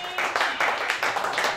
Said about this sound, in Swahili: Pigia makofi Jesus wangu jamani.